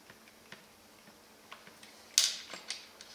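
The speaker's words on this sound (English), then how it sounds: "I'm just undoing the final two bolts on the back brace." Small metal clicks and ticks come from bolts being undone on the back brace of an RC monster truck, sparse and quiet, with one sharper rattling click near the end.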